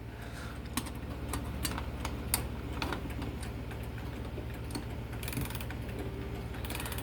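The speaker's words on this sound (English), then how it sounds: "Gotta wind the strike side slowly, because if I do it too fast, I'm gonna end up hitting the bezel" The strike side of a Sonora clock is wound slowly with a key, producing a close series of dry ratcheting clicks and ticks at an uneven pace, with no talking.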